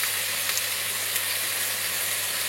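Vegetables for stuffed tomatoes, peppers and courgettes sizzle steadily in a hot pan, a loud, continuous hiss with no pauses, heard close and alone.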